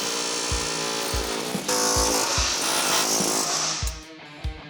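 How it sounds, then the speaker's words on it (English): An air chisel works on a worn-out 1972 Chevrolet C10 truck, popping off cut metal pieces: a loud rapid pneumatic hammering buzz with regular thumps as pieces break free, close by, and then a sudden stop. "we can pop them off with an air chisel"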